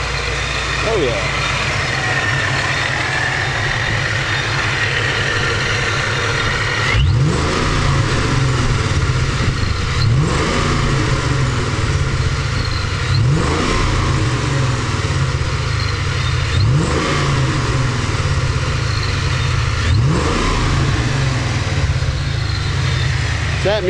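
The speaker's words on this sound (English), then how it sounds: "This engine runs great." A supercharged 1997 Ford Mustang Cobra sits at a steady idle, punctuated by about five sharp throttle blips spaced a few seconds apart, loud and close.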